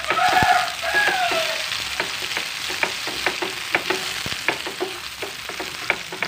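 Tomatoes stir-frying in a pan for a fried-egg stir-fry, a loud steady sizzle broken by repeated clicks and scrapes of a utensil stirring, with a brief squeal near the start.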